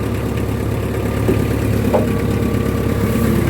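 A Kubota Saturn X20 Japanese mini tractor with a half cab runs its engine at a steady, loud idle, a continuous close-up rumble with a faint knocking texture and no talking.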